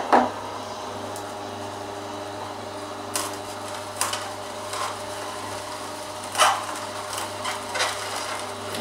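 A juicer works kale pulp fed back through a second time, giving a steady rough grinding and rasping with a few louder crunchy bursts, close and without talk.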